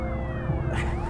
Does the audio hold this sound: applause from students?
no